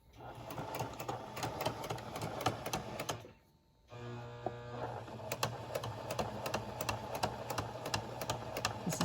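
A sewing machine stitches a homemade fabric mask near a metal nose piece, a steady close mechanical whirr with rapid needle ticks that pauses briefly partway through, then resumes running alone.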